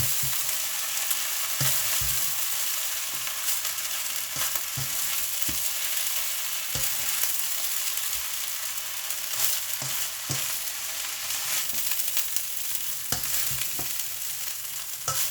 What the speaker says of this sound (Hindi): इस तरीके से चावल ऐड करके मैं खूब अच्छी तरह से उनको मिक्स कर दूँगा।